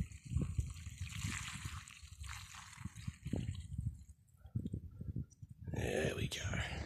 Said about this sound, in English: next step we want to do is fill this with petrol. So just tipsy all that in there.